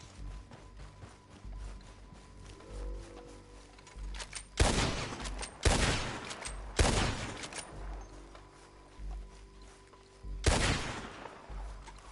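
Gunfire in the video game Red Dead Redemption II, several loud, sharp shots and short bursts spaced a few seconds apart over a low background rumble.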